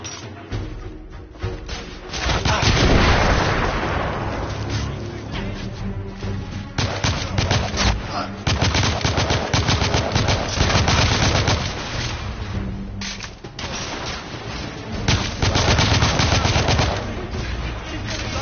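Gunfire in a shooting video game: loud, dense bursts of rapid automatic fire and shots repeat with brief pauses between volleys, and a voice is faintly heard at times.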